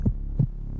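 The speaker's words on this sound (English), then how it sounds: "The beat of a glorious heart." Two deep, thumping heartbeat pulses, evenly spaced and close, with a low steady hum continuing underneath.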